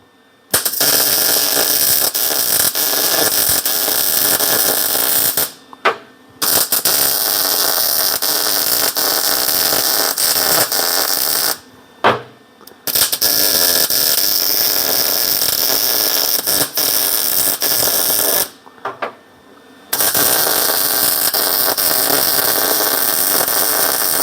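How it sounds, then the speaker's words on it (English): Arc welding around a steel sleeve tool for a Corvair bearing adjustment, a loud continuous crackling hiss running in three long stretches with brief pauses between them, no talking. "So I'm just going to throw weld all the way around it nice."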